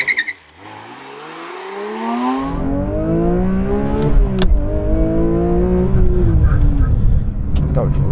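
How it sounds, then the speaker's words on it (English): A Porsche 911 GT3 Touring with a manual gearbox launches with the clutch dumped: the engine bogs, then a rising rev sweep climbs through gears, loud and close, with a voice speaking over the start. "I'm going to dump the clutch, so."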